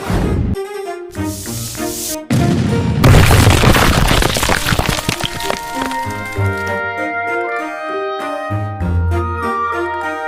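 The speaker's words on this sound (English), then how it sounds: "You better watch out, because there will be some explosions." Cartoon explosions go off while rocks are crushed in a tunnel, with loud bursts and booms over a bright, busy musical backdrop and repeated punchy hits throughout.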